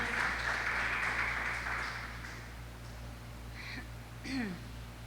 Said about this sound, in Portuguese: Dê uma salva de palmas para o Senhor